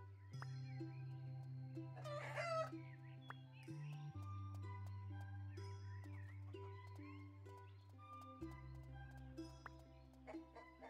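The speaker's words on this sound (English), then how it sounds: "I gotta befriend the chickens first." Chickens in a farming video game cluck and crow over steady synthesized background music, with a louder burst of squawking early on and smaller clucks scattered throughout.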